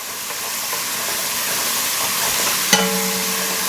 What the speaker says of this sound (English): We're going to saute these until they're translucent.